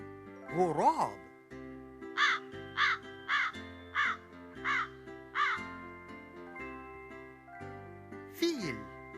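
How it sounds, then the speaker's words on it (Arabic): A crow cawing in a quick run of about seven sharp, evenly spaced caws over a sustained musical background, framed by a longer call at the start and another near the end. "غراب"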